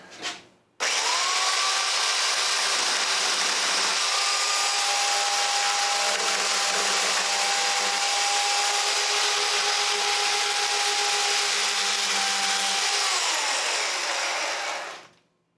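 Chainsaw trimming protruding wooden sticks off a door frame, a steady loud whine held for about fourteen seconds after a brief start, then cutting off.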